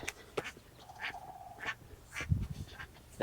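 Birds calling outdoors on a cold day, a few nasal quacking calls spread across a few seconds, faint and somewhat distant against quiet background noise.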